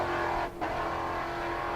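A Camaro and a Mustang drag race at Ennis, Texas, engines blaring in a loud, sustained roar with one brief dip in the middle.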